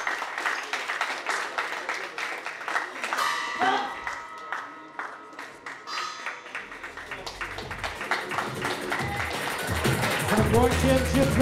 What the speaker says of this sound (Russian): Аплодисменты боксерам в ринге!